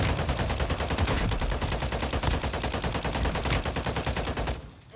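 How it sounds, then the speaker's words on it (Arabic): Nonstop rapid automatic gunfire from Warzone Mobile, a loud, dense, unbroken stream of shots with no reload pause, cutting off abruptly near the end. "اطلاق لا نهائي."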